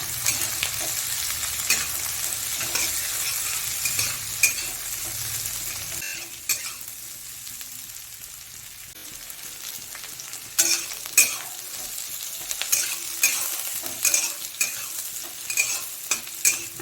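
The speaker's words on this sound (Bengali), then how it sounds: "আর এই যে কাঁচা লঙ্কা দিয়ে দেব, দিয়ে একটু ভেজে নেব" Potatoes, onion and green chili fry in a pan, a steady sizzle broken by scraping stirs with a utensil, close and continuous for the whole stretch with no talk.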